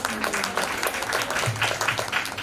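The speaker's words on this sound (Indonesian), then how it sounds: "Ya, tepuk tangan untuk adik-adik" A crowd claps for children at an Islamic jurisprudence exhibition, a brisk patter of many hands that is steady and moderately loud for a couple of seconds.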